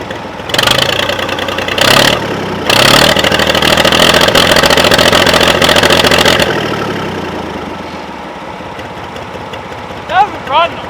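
An abandoned diesel tractor engine, started after sitting ten years, runs loud and close with a rough, throbbing idle and several bursts of revving, then settles lower before a couple of short sharp noises near the end.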